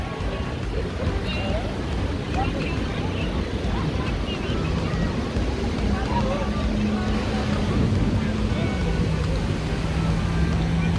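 A motorboat drones steadily on the sea at a Guarujá beach, its engine hum mixed with wind buffeting and surf, with people talking over it throughout.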